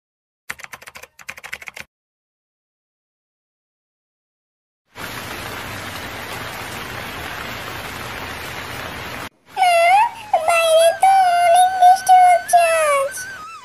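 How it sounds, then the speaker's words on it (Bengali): Cartoon rain in a Bangla fox fairy-tale animation: a steady, even downpour hiss lasting about four seconds after a short silence, then cut off and followed by tuneful music. "বৃষ্টি দেখে তো মনে হচ্ছে এবার অনেক বন্যা হবে"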